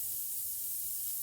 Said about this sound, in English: I'm spraying this, and it'll tell you where your leak is